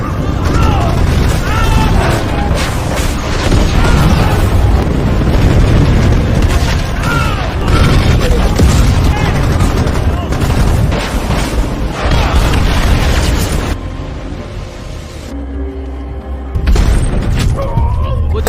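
Loud, dense explosions from an Apache helicopter missile and machine-gun strike on enemy mortar positions in a war film, booming continuously with rumbling blasts, under a narrator's voice, easing briefly before another burst near the end.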